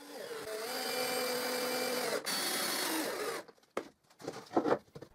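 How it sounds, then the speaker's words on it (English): A power driver runs steadily for a few seconds as screws go into a wooden board, then stops, followed by a few light clunks and taps. "And I insert the screws."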